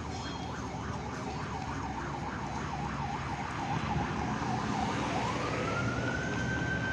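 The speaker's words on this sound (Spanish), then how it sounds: "En estos momentos escuchamos que está arribando una ambulancia" A Protección Civil ambulance siren yelps rapidly in the distance, then switches to a rising wail as it draws nearer, over steady street background noise, arriving at a scene where a pedestrian was hit.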